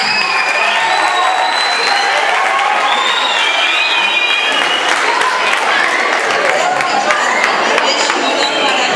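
Applause from an audience in a school auditorium at a student string-band gathering, a loud, dense wash of clapping mixed with cheering and whistles that lasts throughout.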